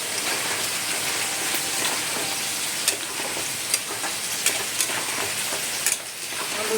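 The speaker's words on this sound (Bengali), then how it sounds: "হলুদ দিয়ে নাড়ছি।" Food fries in a pan while turmeric is stirred in, a constant loud rain-like sizzle with a few sharp scrapes and clinks of the spoon against the pan.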